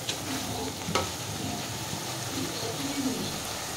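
Spice masala with salt frying in a pan for a potato, soya chunk and cabbage dish, giving a continuous close sizzle with steady stirring scrapes throughout.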